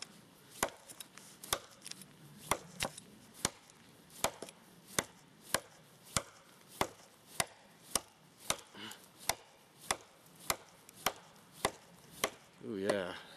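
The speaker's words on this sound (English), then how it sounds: "since the blade's on an angle, you fall through more with your chopping" An angled-blade chopping tool strikes wood outdoors in the snow, giving sharp close thuds in a steady rhythm about once every second, with quiet gaps between blows.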